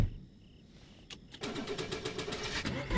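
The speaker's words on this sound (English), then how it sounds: "Let me know if this car is obnoxiously loud." A car engine in the video game DayZ, on the Livonia map, turns over and catches, settling into a steady rumbling idle after a brief click and whir.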